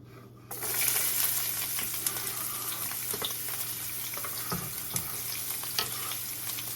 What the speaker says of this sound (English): now we are going to cook our vegetables. We're going to start with the peppers.